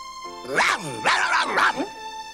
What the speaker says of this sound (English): Oh, it's just a little doggy.